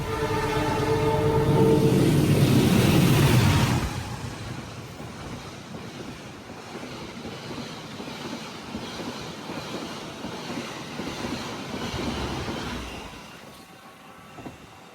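The Kutojaya Utara economy passenger train, a first-generation stainless steel premium set, gives a loud rumble at first, then settles into a steady, softer rolling hum of wheels on rails.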